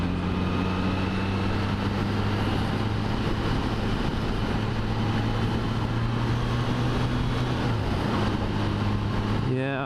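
A Triumph Trident motorcycle engine drones steadily while riding on roads in Wales, with a sustained, even engine note and wind noise, close and loud throughout.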